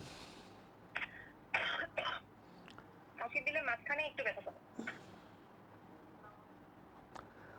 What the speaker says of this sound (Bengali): আপনি একটু কাশি দেন